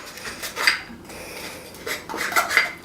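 Flour being scraped out of a mixing bowl in a home kitchen, two short bursts of scratchy scraping and clinking against the bowl separated by a quiet pause, close and moderately loud.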